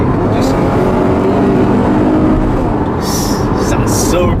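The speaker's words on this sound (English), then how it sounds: "it kind of sounds like it has a supercharger when you get it up there in revs" A 2011 Chevrolet Camaro engine revs steadily while driving, a loud, continuous drone that climbs in pitch, with brief high hissing bursts near the end.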